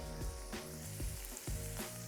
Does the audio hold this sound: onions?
yes